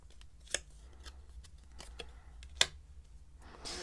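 Tarot cards are drawn from a deck in a sparse series of faint, quiet snaps and soft rustles, with two sharper card flicks standing out against near silence.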